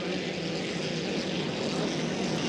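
Hydroplane racing engines roar at full throttle during a race final at Valleyfield in 2012, a dense, loud, unbroken engine drone that fills the whole moment.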